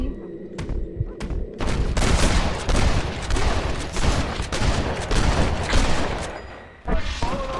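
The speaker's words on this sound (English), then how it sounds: "I guess the guy's shooting at me?" Gunfire in the video game Red Dead Redemption rings out as rapid, overlapping shots in a dense, loud fusillade, with a few isolated cracks before it and after it.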